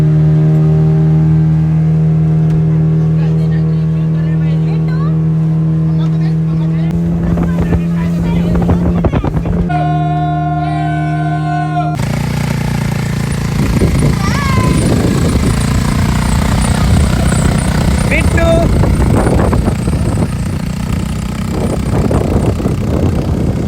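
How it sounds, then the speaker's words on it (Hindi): A motorboat ride at a beach, starting with a steady engine drone and then a loud roar of engine, rushing water and wind buffeting the microphone that lasts to the end. "तो हमने सबसे पहले एक बोट ली।"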